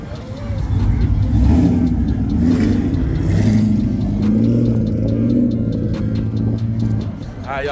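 A car revving hard at a crowded Mopar car meet, a loud sustained engine roar rising and falling through a spin-out, with people talking and shouting over it.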